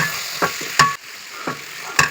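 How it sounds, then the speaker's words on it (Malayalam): Chicken perattu stirred in a pan, a sizzling bed broken by several scraping strokes of a spoon, close and fairly loud, with no speech. "ഇനി നമുക്ക് ഇതൊന്ന് ഇളക്കി യോജിച്ച് കൊടുക്കാം"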